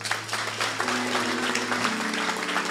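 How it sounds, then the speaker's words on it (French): Congregation applauding during a church service, a dense steady wash of clapping from many people throughout, with a sustained tone underneath and some voices mixed in. "On acclame pour le Seigneur."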